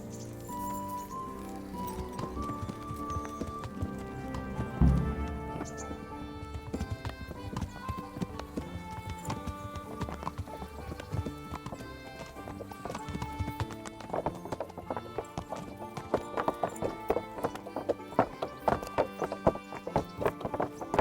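Horse hooves clip-clopping at a brisk, steady gait in Kingdom Come Deliverance, close and continuous over a game music score, with a neigh and a brief spoken line.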